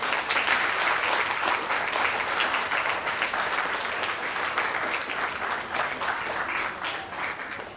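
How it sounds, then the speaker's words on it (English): Audience applause at a makers' event in Jaipur, a big, dense, sustained round of clapping from a large crowd, loud and even throughout, easing slightly near the end with no talk over it. "a big round of applause for Brij Bhushan sir"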